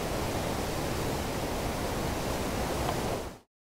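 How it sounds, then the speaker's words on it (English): Broad, steady rush of flowing river water at a mountain camp, constant and fairly loud, with no voices, then ending abruptly. "Listen to the water."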